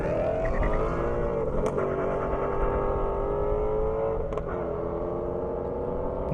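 A Ford Mustang GT350 race car accelerates hard down an airstrip in a steady, loud engine drone, pitch holding high with slight shifts as it pulls away.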